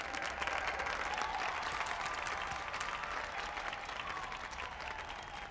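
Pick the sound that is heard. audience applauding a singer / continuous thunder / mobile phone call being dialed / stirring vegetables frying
audience applauding a singer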